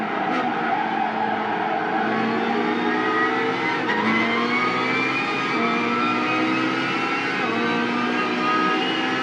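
A race car powering out of a corner on track, its engine note climbing steadily through the revs in a loud, continuous onboard drone with some tire noise.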